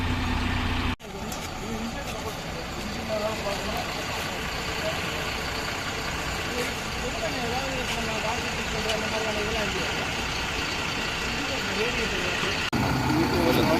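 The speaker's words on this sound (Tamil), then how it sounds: "Volvo பஸ்ஸோட rare engine சவுண்டுங்க" A Volvo B8R bus rear engine rumbles steadily at a constant idle, a deep continuous drone with a faint whine layered on top and no pauses.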